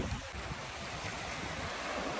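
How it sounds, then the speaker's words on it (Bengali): Sea waves at Mousuni Island beach wash in as a steady, broad roar of surf mixed with wind buffeting the microphone, continuous and fairly loud, with no talk. "এই দেখো পেছনে ঢেউ আসছে,"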